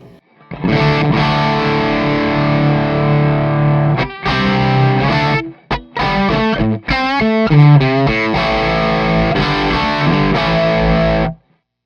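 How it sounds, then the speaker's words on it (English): A Telecaster's bridge pickup runs through a Cornford Hellcat amp at a low gain setting, playing loud crunchy sustained chords alone, then choppy stabs and short broken riffs with brief pauses before ringing out. "There is something special about the bridge pickup, and you can even hear that even on lower gain settings"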